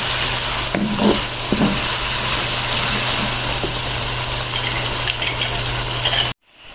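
Steady, close sizzling of onion and garlic-ginger paste frying in hot oil, a continuous crackling hiss with occasional stirring scrapes, cutting off abruptly at the end.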